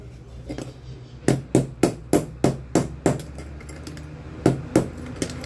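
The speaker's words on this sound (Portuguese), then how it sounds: "você ainda bate um pouco com o martelo ainda" A hammer taps fan parts into place on a restored electric fan, landing a quick run of about seven evenly spaced metallic knocks, then a pause and a few more close, loud strikes.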